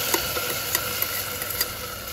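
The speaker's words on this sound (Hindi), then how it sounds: "मैंने थोड़ा सा अजवाइन डाला और थोड़ी सी जीरा।" Carom and cumin seeds sizzle in hot mustard oil, a steady close crackling hiss with small pops and light clinks of stirring.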